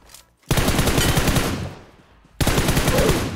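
Rapid bursts of automatic gunfire in a video game, firing at bots, loud and close, with a brief pause in the middle before another sustained burst.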